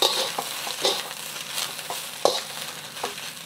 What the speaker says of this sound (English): move the noodles around until it's all evenly colored and all the ingredients are evenly distributed with the noodles